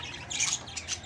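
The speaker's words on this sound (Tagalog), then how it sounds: "ibong bato, African, lovebirds" African lovebirds give a quick burst of shrill squawks, close and fairly faint, over a quiet background.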